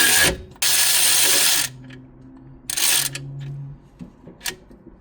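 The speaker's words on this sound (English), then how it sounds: "I've just got my little 12 mil on my ratchet, and I'm just going to tighten them up here." A 12 mm socket on a ratchet tightens alternator bolts on a Toyota Hilux KD-FTV 3.0 L diesel, two loud bursts of rapid clicking followed by lighter clicks and taps.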